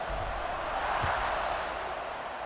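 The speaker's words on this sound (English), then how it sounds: "this crowd is buzzing after that last score" Stadium crowd in the College Football 26 video game buzzing after a touchdown drive, a steady broad roar filling the background with no distinct cheers or peaks.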